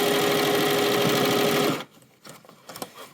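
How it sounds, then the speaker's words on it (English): Dual feed sewing machine stitching a quarter-inch seam around a fabric tote bag, a loud, close, steady motor hum with rapid needle clatter that cuts off partway through, leaving faint fabric rustling and small handling knocks. "So I'm going to go ahead and sew a 1/4 inch all the way around."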